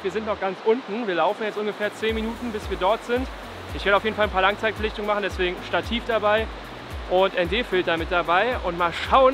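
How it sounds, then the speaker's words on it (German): The Golling waterfall roars as a steady broadband rush in the background, heard at a distance beneath someone talking close to the microphone throughout. "Wir sind heute bei den Gohlinger Wasserfällen und ihr hört es wahrscheinlich schon im Hintergrund"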